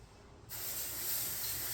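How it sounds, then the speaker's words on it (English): Spray bottle mist applied to a moldy spot on water-damaged drywall, one steady hissing spray that starts abruptly and runs continuously, close and fairly loud. "So I'm just going to spray all this mold where this mold was, this whole spot."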